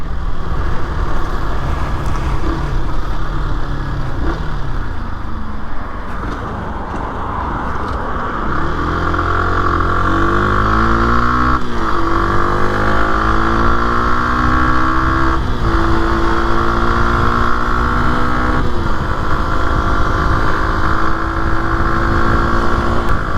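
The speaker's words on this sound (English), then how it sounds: "Let's do that on a motorbike, that'll be nice." Engine of an MRT125 SM supermoto motorbike on the road, a loud buzzing single-cylinder drone that rises and falls in pitch through repeated gear changes and accelerations, close to the rider and with no talking.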